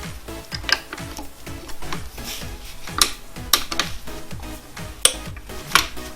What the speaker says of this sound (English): To remove the power steering pump, we've first got to loosen this nut and bolt off here.